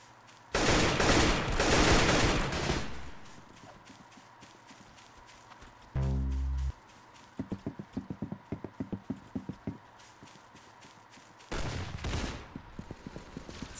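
Bursts of gunfire in the Roblox Arsenal shooter game, with dense rapid volleys at the start, a rattling string of separate shots in the middle and another loud burst near the end, clear and fairly close with no talking.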